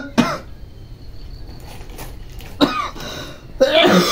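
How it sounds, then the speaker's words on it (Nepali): Someone close by coughs in three sharp bursts spread across a few seconds, with a hushed background between them and the last cough sounding harsher and longer. "खोकी लाग्यो"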